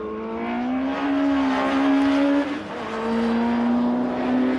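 Campagna T-Rex three-wheeler lapping the Dreux circuit west of Paris, a loud steady engine note rising and holding through the gears, with a brief dip mid-way as it shifts or lifts before pulling strongly again.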